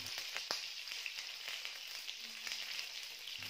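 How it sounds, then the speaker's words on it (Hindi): Tomato halves lie cut side down in a pan over medium heat and sizzle quietly and steadily. Small pops crackle through the faint, even frying hiss. "ये हाफ पीसेस जो है ना मैंने उल्टे करके ये पैन में फैलाते जाना है और इनको हल्का हल्का फ्राई करते जाना है"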